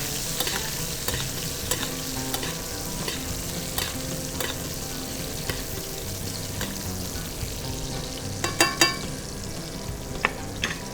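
Steak frying in a pan while being basted with melted butter: a steady close sizzle with scraping and spoon clinks, and a few sharper taps near the end, with no talking.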